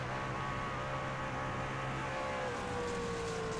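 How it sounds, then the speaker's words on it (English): In a racing video game, a race truck engine on Bristol dirt drones steadily with harmonic whine, pitch holding then easing as the throttle is feathered, with crowd-like background noise throughout. "Hear him feathering that throttle."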